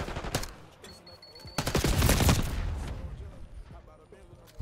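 Rapid bursts of automatic gunfire from a gun in Black Ops 6 play loud and close, with a heavy volley in the middle and game effects and voices mixed around them.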